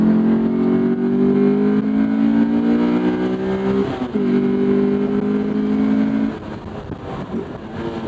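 A Honda S2000 AP2 engine revs hard while driving on a smooth, winding road, with sustained high-pitched engine harmonics rising, a brief dip around a gear change, then climbing again, loud and close with no talk.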